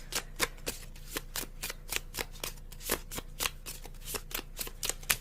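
Tarot cards shuffled by hand in a quick, even run of crisp riffling flicks, close and clear in a quiet room, with no talking.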